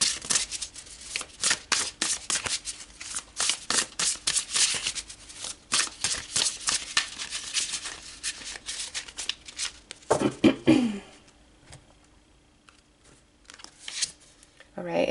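A deck of tarot cards shuffled in rapid, close riffling bursts that go on for about ten seconds, followed by a few softer card movements and a brief voice.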